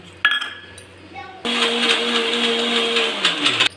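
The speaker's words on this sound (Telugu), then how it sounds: "ఇందులో జీడిపప్పు కూడా వేసేసి ఒకసారి మళ్ళీ గ్రైండ్ చేసుకొని చేద్దాము" A few light clinks and bumps come first, then a mixer grinder whirs loudly and steadily as it grinds cashews and jaggery for a puffed-rice sweet, running for about two seconds before cutting off.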